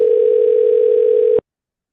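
A telephone tone sounds on an outgoing call to an expired listing, one loud, unbroken steady tone that cuts off sharply partway through, leaving silence.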